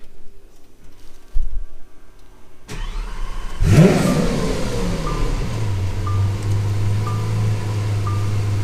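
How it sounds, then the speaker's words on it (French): A Lamborghini Aventador SV V12 fires up after a quiet start, with a sharp starter burst followed by a loud, close rev that settles into a deep, steady idle, with faint beeps recurring in the background. "on allait vous démarrer l'Aventador SV pour vous faire écouter"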